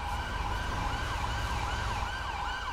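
A video game ambulance siren wails steadily in a repeating up-and-down pattern over a low engine rumble, loud and continuous, in GTA V.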